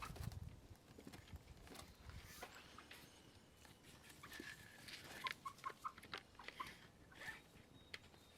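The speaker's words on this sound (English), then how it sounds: "Let's go look at the chickens for a minute." Chickens cluck softly in a quiet outdoor yard, with short scattered clucks and pecking sounds that pick up toward the end.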